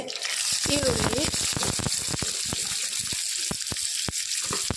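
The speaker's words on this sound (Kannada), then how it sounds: "ಈಗ ನೀರುಳ್ಳಿ ಫ್ರೈ ಆಗ್ತಾ ಬಂತು" Steady crackling sizzle of onions frying in hot oil for a Udupi-style fish curry tempering, with sharp pops and spatters throughout and a brief tonal whine early on.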